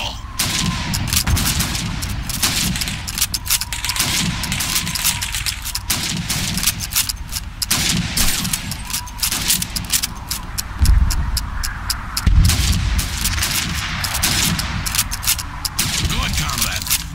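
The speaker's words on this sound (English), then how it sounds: "You have 15 seconds to shoot the helmets." Rifle fire in Call of Duty 2's Red Army training, shooting at helmets under a time limit: a rapid string of sharp, loud shots with metallic pings, set against a rumbling battle backdrop, while voices talk throughout.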